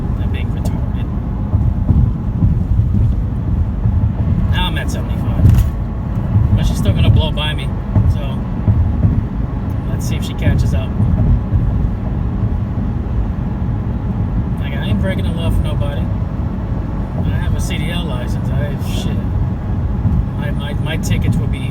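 A car opening up to 75 mph on the highway near Erie, Pennsylvania, gives a steady, loud low-end engine and road roar throughout, with a person talking intermittently over it.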